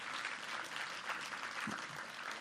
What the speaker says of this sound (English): Can we give Rose another round of applause, please?